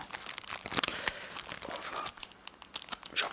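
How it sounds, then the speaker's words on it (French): Packaging being unwrapped up close in a whispered French ASMR setting, with crisp, irregular crinkling and tearing bursts of plastic and paper in quick succession. "je vais déballer tout ça, moi"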